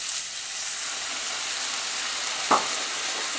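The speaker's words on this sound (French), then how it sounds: "Je vais déglacer avec la moitié d'un verre de vin blanc." Golden fried onions deglazed with half a glass of white wine, a loud steady sizzle of frying close by, with a brief stir or clatter partway through.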